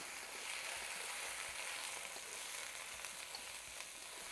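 Eggplant cooking down in a hot pan of oil gives a steady, soft, hissing sizzle with faint bubbling pops. The sound is even and continuous throughout, with no voices.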